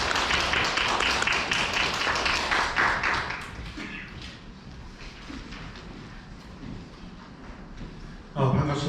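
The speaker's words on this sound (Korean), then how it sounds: "박수 부탁드리겠습니다." Audience clapping to welcome a lecturer at a sustainable development lecture, a burst of hand claps fading after a few seconds into quieter room noise, with a voice starting at the end.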